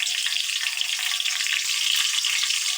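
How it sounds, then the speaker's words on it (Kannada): Chopped onion frying in hot oil in a pan with mustard seeds, cumin and garlic, a steady close, even sizzle that carries on alone with no talk. "ಸೊ ಇದು ಸ್ವಲ್ಪ ಫ್ರೈ ಆಗಲಿ"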